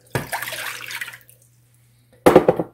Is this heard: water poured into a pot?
yes